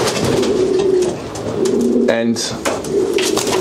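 Pigeons coo in a loft section for cock birds, a steady low murmuring chorus running throughout, with a person speaking briefly over it.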